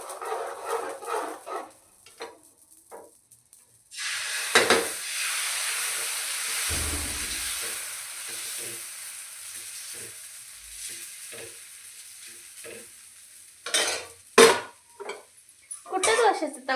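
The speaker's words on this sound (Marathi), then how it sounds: "तर चपात्या बनवले मी त्याच तव्यावर डोसे बनवते." Dosa batter sizzles loudly on the same hot iron tava used for chapatis, a broad steady hiss that holds for about ten seconds with a brief clatter partway, framed by a few clicks and handling noises before and after.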